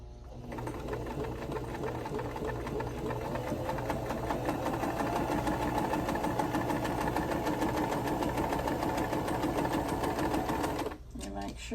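A basic domestic sewing machine with zigzag and straight stitch runs continuously through quilt fabric, a steady fast mechanical whirr and rapid needle chatter up close that stops abruptly near the end.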